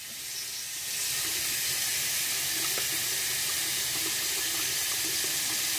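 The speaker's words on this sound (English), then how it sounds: "and then rinse it off" Water runs steadily from a tap to rinse foam off a toy, a close, continuous splashing hiss that starts softly and then holds at full strength.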